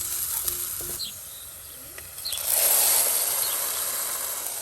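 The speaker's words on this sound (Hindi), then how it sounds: "2 से 3 हरी मिर्च प्याज के साथ हम लोग भून लेंगे।" A small chopped onion and two or three green chillies fry in oil in a clay pot, a steady hissing sizzle that swells louder partway through, with a few faint stirring scrapes.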